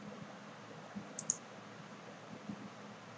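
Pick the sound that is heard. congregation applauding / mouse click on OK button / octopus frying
mouse click on OK button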